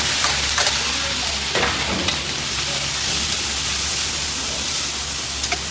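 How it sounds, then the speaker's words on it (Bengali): Prawns fry in hot mustard oil with cumin, onion and green chilli, making a dense, loud, close sizzle like heavy rain, with a few sharp stirring scrapes on top. "এই যে সরষের তেলের সাথে ওটা জিরা এবারে চিংড়ি মাছ দিয়ে দিলাম পেঁয়াজ কাঁচামরিচ"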